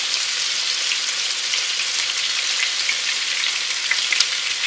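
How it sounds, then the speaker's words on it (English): Loud, steady sizzling of sirloin steak searing in a hot skillet, a continuous bright hiss with faint pops, close up and uninterrupted. "In the skillet we go. You hear that sizzling?"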